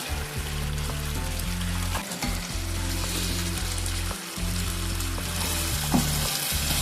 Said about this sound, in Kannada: ಕರೆದಿರುವಂಥ ಮಂಚೂರಿಯನ್ನು ಹಾಕ್ತೇನೆ